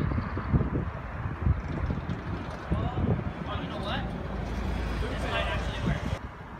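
Gusty wind buffets the microphone outdoors near a bridge rail where a skateboarder attempts a grind, a steady low roar with swells throughout and people talking over it.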